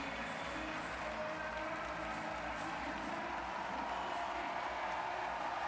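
A large crowd roars and cheers continuously at a London 2012 Paralympic women's C1-3 500m track cycling time trial in the velodrome, a dense sustained wash of applause and shouting filling the arena.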